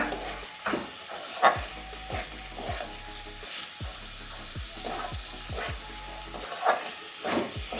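Paneer and pointed gourd curry stir-fried in a pan, a steady sizzle broken by repeated scraping strokes of a spatula at an uneven rhythm, close and moderately loud with no talk.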